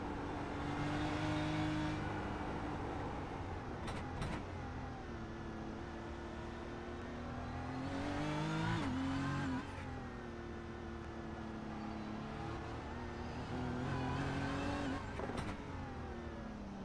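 Race car engines revving in a sim racing video game replay, with several engines rising and falling in pitch through gear changes, fairly faint and steady, with no talking.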